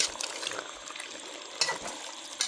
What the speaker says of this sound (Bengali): তো আমি মাংস আবারও ভালো করে নেড়ে দিলাম।